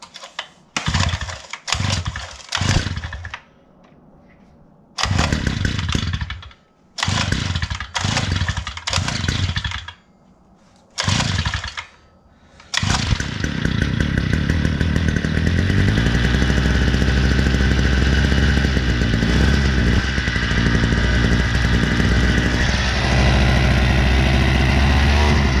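Uber Scoot 49cc scooter engine, primed and then pulled over repeatedly in loud short bursts, catching briefly, then starting and running continuously with a steady, buzzy, close-up drone.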